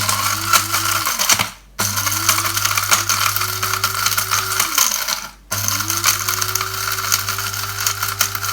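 An electric grinder whirs and rattles as it grinds roasted whole tikka masala spices with broken nutmeg. The motor stops twice, then spins back up each time, with hard pieces clattering inside throughout.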